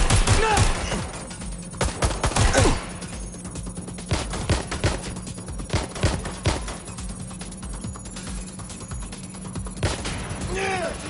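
Gunfire in the video game Watch Dogs, rapid bursts and scattered shots with crashes and impacts, loud then continuing in irregular volleys, with voices calling out over the action.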